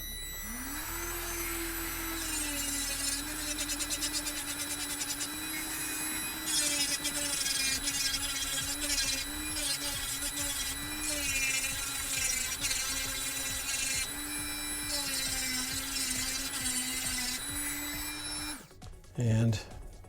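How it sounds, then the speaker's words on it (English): Rotary tool fitted with a drum sander attachment grinding away material on a prop jet pack build, a continuous high-pitched motor whine with shifting pitch as it bites, running nearly the whole time before stopping near the end. "the best tool for this is going to be the old rotary tool with a drum sander attachment"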